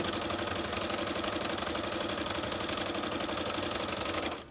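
A sewing machine stitches quilt patches for a queen-size Drunkard's Path quilt. The rapid, even mechanical chatter runs steadily and close, then stops abruptly at the end.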